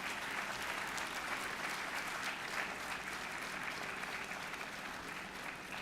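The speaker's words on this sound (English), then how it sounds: "Can we have a huge round of applause for these people?" Sustained applause from a convocation audience at an annual graduation ceremony, a steady dense wash of clapping that holds evenly for several seconds without voices.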